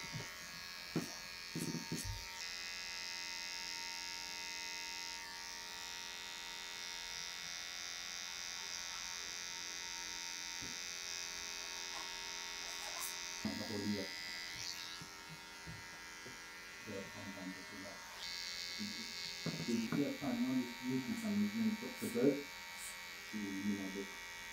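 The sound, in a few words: electric hair clippers trimming a taper above the ears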